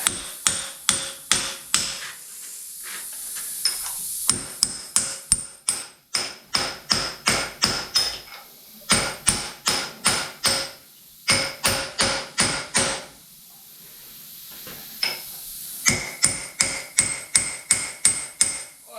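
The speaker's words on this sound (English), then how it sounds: "Pulled the cotter pin and the pin out of this one pin here. We're going to drive it out." Sharp metal hammer blows drive a pin out of a John Deere 110 tractor's tilt cylinder, ringing in quick bursts of several strikes separated by short pauses, close and loud with no talk.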